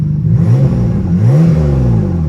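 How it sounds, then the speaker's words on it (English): A car engine with a valved aftermarket exhaust revs up and down twice with a deep, throaty exhaust note, loud and close, settling into a rumbling idle. "Go ahead and rev it a couple times and then open the valve for me, Shah."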